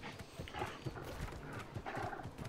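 A horse mount ridden in the New World video game, with a steady clip-clop of galloping hooves, fairly faint and continuous without talk.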